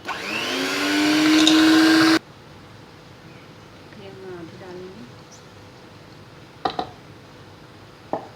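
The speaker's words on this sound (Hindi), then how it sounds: "इसको बीट करेंगे।" An electric hand beater whirs loudly and steadily while creaming butter and sugar for eggless flower cupcakes, running close for about two seconds before cutting off, followed by quieter kitchen handling and a couple of light knocks.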